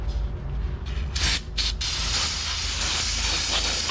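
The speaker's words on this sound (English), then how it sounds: "You can use brake cleaner." Brake cleaner sprayed onto a Nissan Pathfinder brake rotor to wash off storage oil, a close hissing aerosol spray in several short bursts and then a longer sustained spray.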